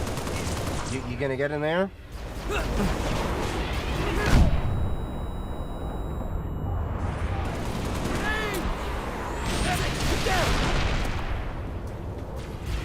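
Video game gunfire erupts in bursts of rapid automatic shots and heavy booms amid battlefield chaos, with excited voices talking over the shooting throughout.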